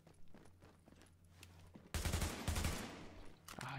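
Rapid bursts of weapon gunfire in the video game The Division, loud and sustained from midway on, following quieter game ambience with scattered faint shots and impacts.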